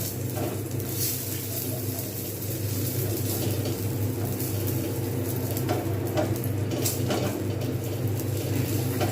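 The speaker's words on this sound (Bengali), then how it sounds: "এবার এর মধ্যে আমি দিয়ে দেবো কাজু বাদামগুলো জাস্ট আমি হালকা করে ভেজে নেবো" Cashew nuts fry lightly in ghee in a pan, making a constant close sizzle with scattered crackles and stirring scrapes throughout.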